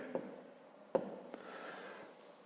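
A pen writes numbers by hand on paper in a quiet room, a few faint short scratches and taps.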